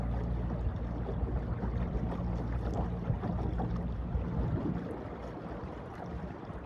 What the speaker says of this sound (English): I have a 46-pound thrust motor in the back.